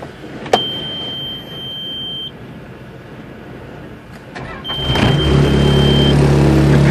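A Caterpillar 277C compact track loader starts up: a brief electronic beep, then a steady idle hum until the engine catches near the five-second mark and settles into a louder, even diesel rumble.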